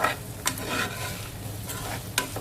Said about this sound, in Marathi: मंद आचेवरती आपण ते परतून घेऊ